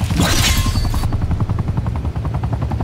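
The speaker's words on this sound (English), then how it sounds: "That helicopter ain't doing very much." A helicopter in the video game Black Ops 4 beats steadily with a loud, rapid rotor thump, and a burst of gunfire and a booming blast sit on top of it near the start.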